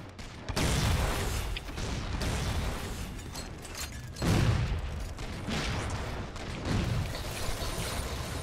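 Rapid bursts of light rifle fire in the video game Halo 4, a multiplayer Infinity Slayer match on Haven, packed with repeated loud shots and impacts through the whole stretch, over dense in-game battle noise.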